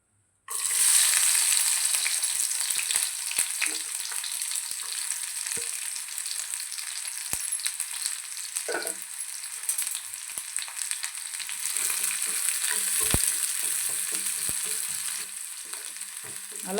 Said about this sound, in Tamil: நல்லா சின்ன வெங்காயம் பொன்னிறமாக வதக்கிட்டு நம்ம தாளித்து கொட்டினோம்னா ரொம்ப நல்லாயிருக்கும் டேஸ்ட்டு.